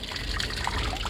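Water running and trickling steadily in Baku Old City, a continuous close splashing wash outdoors with no voices.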